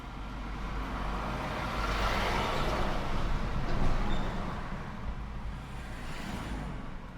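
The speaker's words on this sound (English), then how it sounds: "until this truck goes by so y'all can hear me" A truck passes on a nearby road, a broad steady rumble that swells toward the middle and fades slightly, heard alone without talk.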